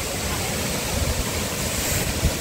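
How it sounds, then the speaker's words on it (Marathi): A small waterfall in monsoon rain roars as a steady, broad rush of falling water, close and loud, with occasional low bumps of handling noise. "हा बघा हा धबधबा."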